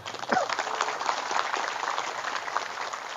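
An audience at an Indonesian religious gathering applauds in a dense, continuous wash of clapping, fairly loud and even throughout, with faint crowd voices underneath.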